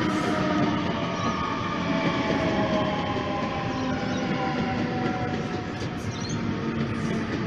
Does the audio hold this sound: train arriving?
yes